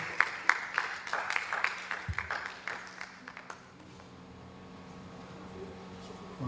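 Audience applause for a speaker at a tech event, a burst of scattered claps that dies away quickly into quiet room noise, with voices faintly mixed in.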